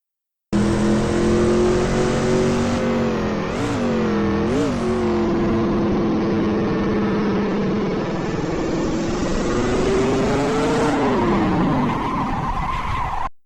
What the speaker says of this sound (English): you start spinning up those rear tires when you're coming out of the corner, and that's called power oversteer.